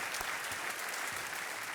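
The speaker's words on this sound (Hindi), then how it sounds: "तालियों के साथ इनका स्वागत।" A studio audience on a television quiz show claps in a steady, dense burst of applause, even and continuous for a moment with no talk over it.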